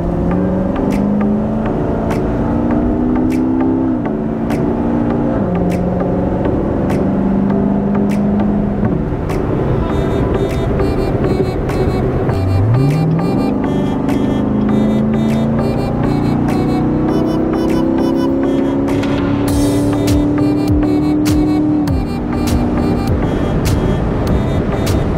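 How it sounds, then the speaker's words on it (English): A 2017 Lexus GS Collectors Edition is driven on the road, with steady engine hum and tire noise throughout and gear-shift pitch changes as it accelerates, no talking. "So let's jump in the car and head to CarMax."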